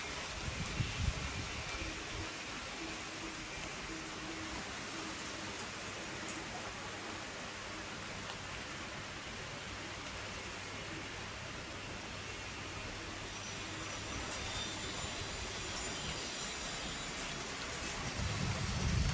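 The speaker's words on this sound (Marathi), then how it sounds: "आत्ता वाजलेत संध्याकाळचे 5 आणि पाऊस बघा कसा पडतोय छान." Steady, soft hiss of rain falling continuously, an even wash of noise with no voices, swelling slightly toward the end.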